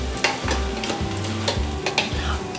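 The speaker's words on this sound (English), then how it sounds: "I'm hearing this start to kind of crackle a little bit." Peppers sautéing in a pan for hot sauce crackle and sizzle steadily, while a spoon makes rhythmic stirring scrapes about twice a second, up close and with no one speaking.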